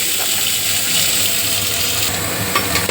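Whole spices including cumin seeds fry in hot oil in a pan, a close, even sizzling hiss with soft scraping stirs and a couple of light clinks toward the end.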